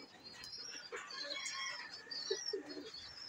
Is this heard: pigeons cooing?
yes